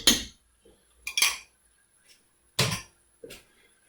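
Spoon stirring Dijon mustard into a sausage casserole in a pot: several separate scraping, clinking bursts of utensil against metal, close and fairly loud, with quiet gaps between strokes and no talking.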